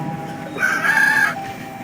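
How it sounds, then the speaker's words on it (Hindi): A rooster crows once, a clear drawn-out cock-a-doodle-doo rising over a quiet background, moderately near and lasting under a second. "और मुर्गे ने बांग दी।"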